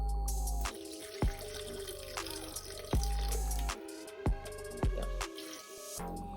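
Water poured from a tap or jug into a blender holding overnight-soaked cashews, with several splashy drips and short bursts of liquid against a low steady hum, close and fairly quiet.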